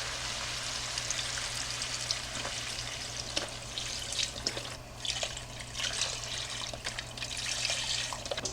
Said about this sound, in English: I'm going to add in 8 cups of broth